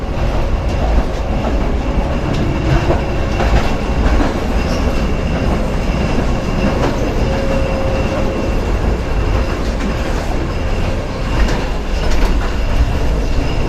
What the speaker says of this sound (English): This tram is so knackered it can only go 20 miles an hour.